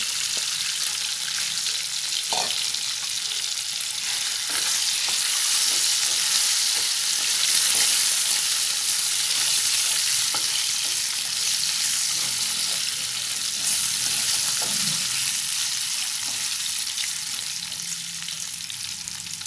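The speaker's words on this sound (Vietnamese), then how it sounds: "Mình chiên như thế này nè các bạn là được rồi nè các bạn" Steady, bright sizzle of seitan frying in a hot pan, continuous and close, with occasional soft clinks and stirring noises and no talking.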